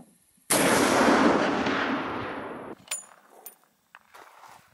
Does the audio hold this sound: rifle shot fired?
yes